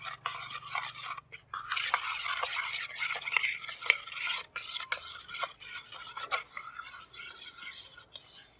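Flour and a pinch of salt are stirred into beetroot juice for colourful luchi dough, giving quick, irregular scraping and tapping strokes of a spoon against a bowl, close up and fairly soft, with no talking.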